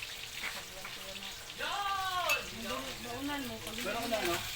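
Fish frying in a pan gives a soft, continuous sizzle beneath voices talking nearby in a home kitchen.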